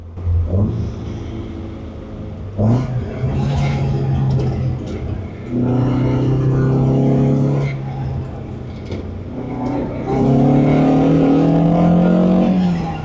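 A 1972 Toyota Celica is driven and cornered, its engine rising and falling through repeated revving surges under throttle, loud and close from inside the car, with occasional voices.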